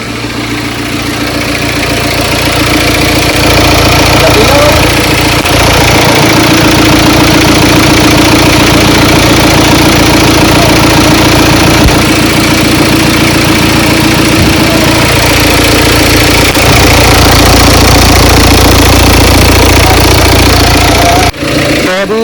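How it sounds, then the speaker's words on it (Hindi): A BMW X1 engine idles in a workshop after being refitted with the air filter removed, a loud steady low rumble with a faint knocking vibration running throughout, cutting off abruptly near the end. "अभी जब ये इंजन स्टार्ट हुआ है"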